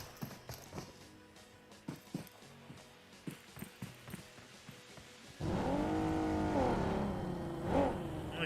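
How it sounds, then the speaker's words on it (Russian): Cars drive in a video game, first as a series of quiet rhythmic knocks, then an engine swells in and revs with a rising, droning tone, fairly faint overall. "Услышал машины."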